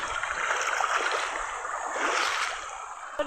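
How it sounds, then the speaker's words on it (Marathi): People wade through deep river water on the way home from a village temple, a continuous close splashing and swishing that swells and eases, ending with a brief sharp knock. "आपण आता पाण्यातनं जात आहोत"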